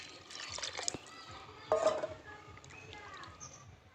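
Water pours into a pot of duck meat with a faint, light trickle and a brief louder splash midway, heard at a quiet level.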